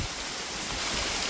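Heavy rain pours steadily outside a tribal home, a dense, continuous roar with low rumbling wind-like buffeting, close and enveloping, with no voices.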